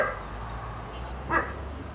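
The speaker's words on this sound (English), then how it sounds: "I don't know why he's barking." A dog named Cole gives one or two faint, short barks at a distance outdoors during a cassava harvest, set against a steady low background hum.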